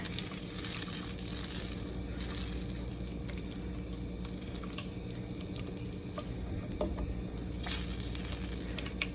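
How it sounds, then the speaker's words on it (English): Tomato paste mixture being stirred in a pan, soft wet scraping and squishing over a steady low sizzle, close and quiet with occasional drips and clicks. "We are going to give this a good stir. We're going to break up all that tomato paste."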